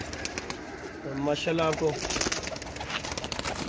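Pigeon cooing from a pair of healthy show pigeons, a few soft low coos in the middle of the clip, heard alongside someone speaking nearby.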